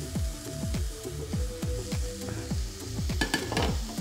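Smoked ham hock goes into a pot of sautéed onions, with a spoon scraping and stirring in a steady rhythm, roughly two strokes a second, over a low continuous sizzle, close and moderately loud.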